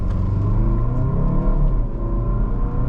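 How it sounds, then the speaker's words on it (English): A Volvo V90 Cross Country engine revs low and heavy in dynamic mode with traction control off, rumbling and rising steadily as it builds toward acceleration, loud and close with no speech. "Build up some revs and"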